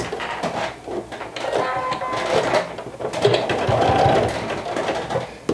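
A sewing machine runs steadily, stitching the seam around a vintage jumper with a basting-length stitch, its whirring rising and falling in short bursts at close range; a faint voice can be heard beneath it.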